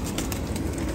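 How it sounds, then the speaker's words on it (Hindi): Rampuri pigeons coo softly at close range, a low continuous murmur with faint rustling, brief and without voices. "ए कबूतर वेख लो"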